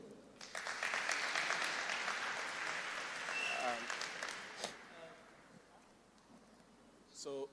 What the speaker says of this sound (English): A round of applause for Mr. Grootboom.